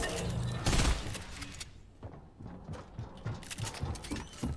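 Rapid SMG gunfire in Fortnite, bursts of sharp shots fired at close range with brief pauses between volleys.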